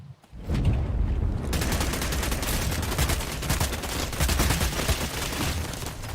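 Dense, rapid gunfire rattles nonstop in the vampire battle royale game VTM Bloodhunt, loud and close, with bursts overlapping after a brief quiet opening.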